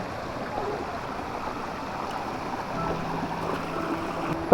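Water from a stream runs steadily at a landslide site strewn with small stones, a continuous low rushing wash that stays even and moderately quiet throughout, with no voices.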